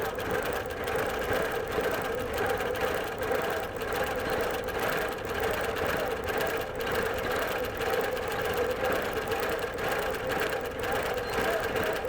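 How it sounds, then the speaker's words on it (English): A long arm quilting machine runs steadily, stitching a simulated blanket stitch around raw edge appliqué on a quilt, with a continuous close mechanical hum and rapid needle rhythm and no voices. "The beauty of doing this blanket stitch or simulated blanket stitch on the long arm is that you're also quilting it at the same time."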